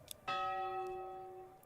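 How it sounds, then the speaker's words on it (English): A single church bell in the medieval city-building game Manor Lords strikes once and rings out alone, its bright metallic tone decaying slowly over more than a second. "Listen to that bell."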